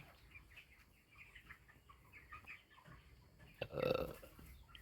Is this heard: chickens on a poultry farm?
yes